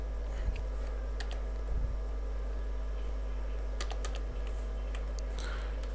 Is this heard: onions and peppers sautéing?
no